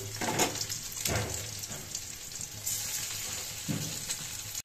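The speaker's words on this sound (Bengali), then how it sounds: "এটা নামায়া এখন মাছটি ভাজবো।" Small puti fish fry in hot oil, a continuous close sizzling hiss with a few louder bursts as pieces shift, ending abruptly.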